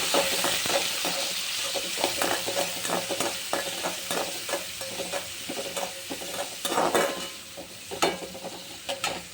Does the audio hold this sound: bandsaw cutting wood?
no